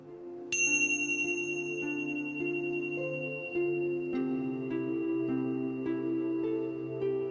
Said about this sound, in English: we usually start all meditations with a little bell, and we'll stop with a bell.